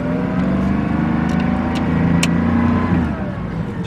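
A car engine revving loudly at an outdoor plow day gathering, a dense steady roar with slight rises in pitch over about four seconds, no talking.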